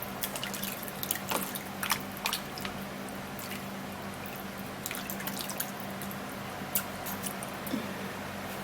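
Garlic cloves being washed in water, with soft drips, squishes and light splashing trickling close by at low volume, no speech.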